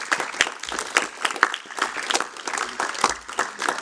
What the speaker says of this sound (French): je crois qu'il faudrait qu'on applaudisse chaleureusement Jean-Michel Germain